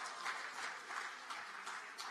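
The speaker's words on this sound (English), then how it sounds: "Round of applause." Faint, distant audience applause at a singing contest's grand finale in Uganda, a soft steady patter of many hands with no voices on top.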